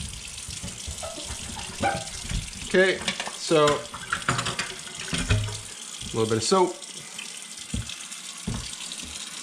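Warm tap water runs while a faded hat is washed by hand with Sunlight soap: a continuous close water rush sits beneath a person talking.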